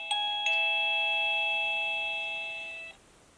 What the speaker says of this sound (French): La sonnette est maintenant en place